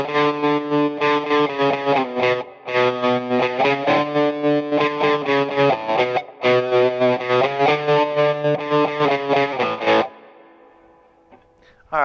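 An electric guitar runs through a JHS Kodiak tremolo pedal set to a sine wave with amp gain, giving loud, distorted sustained chords that pulse in an even, steady throb before cutting off and fading into a brief ringing tail.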